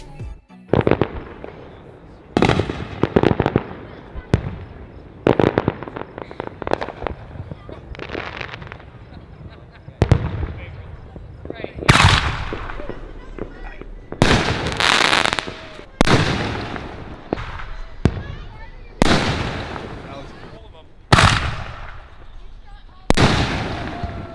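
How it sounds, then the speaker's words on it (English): Fireworks explode at night in a long series of sharp, loud booms and crackling bursts at irregular intervals, some close and heavy, with the sound of people talking faintly between blasts. "finished off the night by watching these sweet fireworks."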